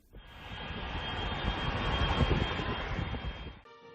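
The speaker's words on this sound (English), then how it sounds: "the plane was up in the sky, cruising at a speed of 888 kilometers per hour" A jet airliner cruises at about 888 km/h on its way to JFK airport in New York, a steady, loud broadband roar with a thin high whine that swells gradually and then drops away near the end.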